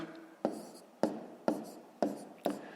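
A pen scratches out handwritten digits during a fifth-grade maths multiplication exercise, in five sharp, evenly spaced strokes, each with a short, soft scratch, close up and quiet.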